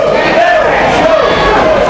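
A wrestling crowd at a live independent show boos loudly and steadily, with whistles and jeers rising through the din, while a commentator talks over it.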